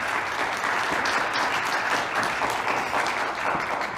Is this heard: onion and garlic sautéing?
no